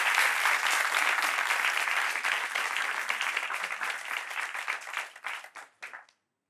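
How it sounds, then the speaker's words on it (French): Steady, dense applause from a studio audience rolls on for several seconds, then thins into scattered claps and stops abruptly. "Applaudissements"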